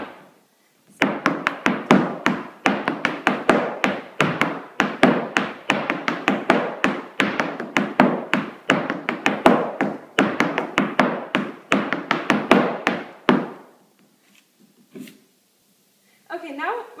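Irish step dance footwork in a step, shuffle, hop, toe, hop pattern: a long run of crisp, close taps and thuds in a quick, repeating rhythm. It stops cleanly, followed by a few faint sounds and a brief voice.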